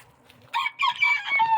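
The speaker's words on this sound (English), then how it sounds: "did I never showed you guys the outside chickens" Farm chickens outdoors, with a rooster crowing loudly in a rising, drawn-out call after a brief quiet start, joined by clucking hens close by.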